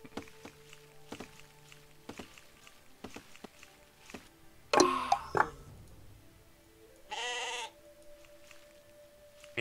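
Sheep in the video game Empires Apart give a loud, clear bleat mid-clip and a second shorter one later, among soft game clicks and footsteps.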